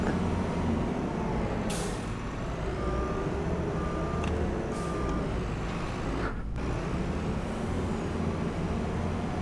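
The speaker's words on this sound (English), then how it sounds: "Parking brakes on." A big red truck in Farming Simulator 25 lets out a sharp parking air-brake hiss, followed by intermittent reversing beeps and a second brief hiss over a steady engine idle.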